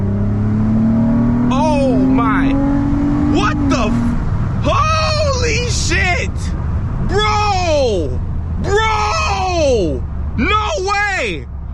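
A 2011 Lexus ES350 fitted with a Pedal Commander throttle controller launches from 0 to 60, its engine note climbing steadily for about four seconds before excited shouting takes over above a continuing engine drone inside the cabin.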